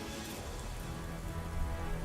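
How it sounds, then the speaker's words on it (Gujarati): Heavy rain pours down in Surat in a continuous, even wash, a dense hiss with a low rumble underneath that builds slightly toward the end. "સુરતમાં ભારે વરસાદથી પૂર જેવી સ્થિતિ"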